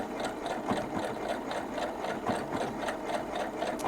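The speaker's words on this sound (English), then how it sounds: "it's stitching on this side and reaching over and grabbing that fold" A Husqvarna Viking Jade 35 sewing machine stitching a blind hem, running steadily with a fast, even mechanical chatter of needle strokes, close and loud, with no voices.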